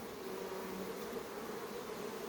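Honeybees in an opened ten-frame hive hum in a faint, steady, continuous drone with no voices.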